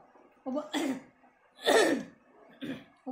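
A small child gives a few short forced coughs when prompted, three or four separate bursts spaced apart, close to the microphone in a quiet room.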